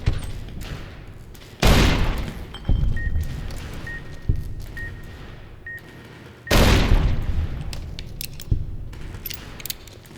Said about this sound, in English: Is he shooting people over there?